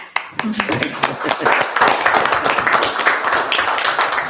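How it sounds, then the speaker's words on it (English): A small audience at a village council meeting claps with distinct, close, slightly uneven hand claps that build into a steady patter, with a few quiet voices underneath. "we're very appreciative and want to applaud you"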